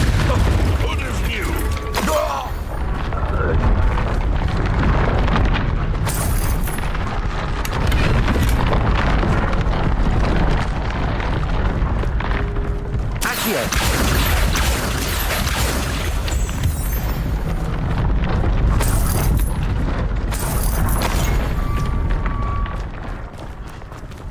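The Confringo fire spell explodes in the Hogwarts Legacy video game. A loud, dense, continuous roar of booming blasts and mechanical rumble runs for the whole stretch, with a brief dip partway through.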